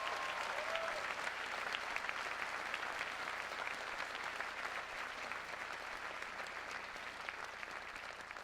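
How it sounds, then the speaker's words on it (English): Sustained applause fills a university presidential inauguration hall, a dense, steady wash of many hands clapping at even volume throughout, with no voices standing out. "Could we give all of them a round of applause for their great work?"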